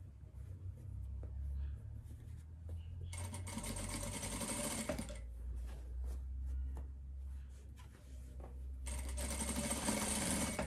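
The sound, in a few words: sewing machine stitching seam along edge of hooded blanket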